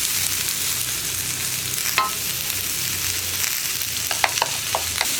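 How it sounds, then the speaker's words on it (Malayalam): Chopped onion goes into hot oil already flavoured with garlic and sizzles steadily, a dense constant hiss with a few sharp clicks of stirring toward the end. "വെളുത്തുള്ളി ചേർത്തിട്ട് വെളുത്തുള്ളിയുടെ ഫ്ലേവർ ആ ഓയിലിലേക്ക് ഒന്ന് ഇറങ്ങി തുടങ്ങുമ്പോൾ തന്നെ നമുക്ക് നമ്മൾ കട്ട് ചെയ്ത് വെച്ചിരിക്കുന്ന സവോള ചേർത്ത് കൊടുക്കുക."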